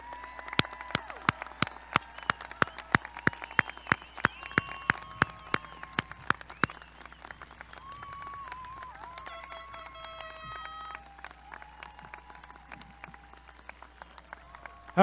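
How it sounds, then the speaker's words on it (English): Scattered hand claps ring out from the audience at a Crystal Lake South High School class of 2021 graduation ceremony. The sharp, separate claps thin out after several seconds, and faint tonal sounds continue in the background. "one more time, a round of applause for the class of 2021"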